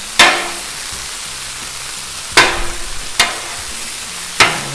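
Fully cooked corned beef hash warms on a Blackstone griddle under a soft, steady sizzle, broken by four sharp metal spatula scrapes and clanks at uneven intervals.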